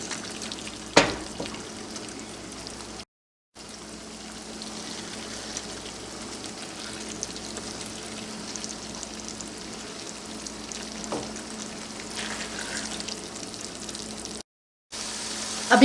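Fish pieces fry in masala in a pan for a fish curry, giving a steady, close sizzle that runs throughout, with a couple of brief louder clatters and short gaps.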